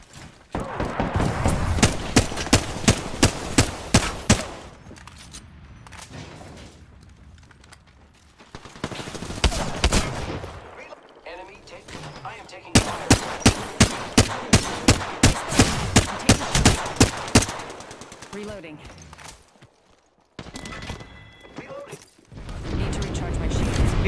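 Gunfire in the Apex Legends video game, shot from a window, with rapid automatic bursts in several long strings, loud and close, broken by quieter gaps with mechanical clicks and people talking over it.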